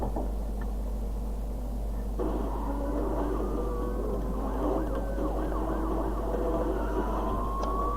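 Police car sirens wail in pursuit during a street race in the video game Need for Speed Undercover, with steady rising and falling tones that continue over constant engine roar for the whole stretch.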